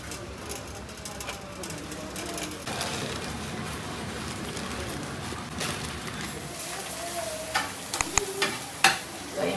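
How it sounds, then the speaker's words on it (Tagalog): Cement being mixed by hand, a steady gritty scraping and churning that runs throughout, with a few louder knocks toward the end. "Ngayon guys, naghahalo tayo ng simento."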